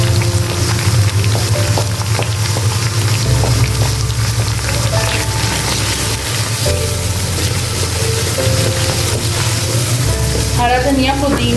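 Taro pieces with spices sizzle and fry steadily in a hot pan, a dense continuous crackle with occasional stirring scrapes, close and loud throughout.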